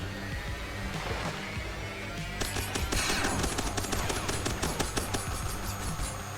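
A rapid-fire gun in Hypergun lets off a loud, dense stream of shots, first steady and then sharper and quicker, like a machine gun chattering against a busy game soundtrack.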